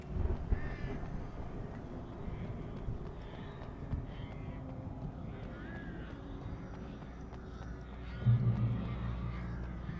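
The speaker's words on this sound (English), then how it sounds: "Gonna use the flare against those birds" Crows attacking in Alan Wake Remastered: repeated harsh caws over a low rumbling game soundscape, with a heavier thump near the end and a voice talking intermittently.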